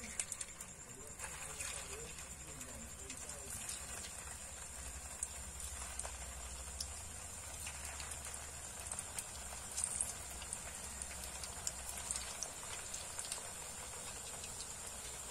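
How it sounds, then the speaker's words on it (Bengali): Puffed rice fritters (murir chop) fry together in a wide pan of mildly hot oil, giving a steady, even bubbling hiss that holds for the whole stretch with no talking over it. "এবারে এইভাবে ভাজতে দিতে হবে কিছুক্ষণ"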